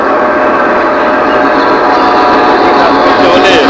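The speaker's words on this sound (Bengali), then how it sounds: "এই যে ট্রেন এসে থামছে, যাত্রী উঠবে নামবে" A train pulls into a station and slows to a halt with a loud, steady rumble and hiss of wheels and carriages, filling the scene without pause.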